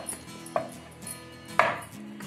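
A knife cutting through thinly rolled dough for a jackfruit-style sweet, giving two crisp, close-up thuds on the board about a second apart, with quiet handling sounds between.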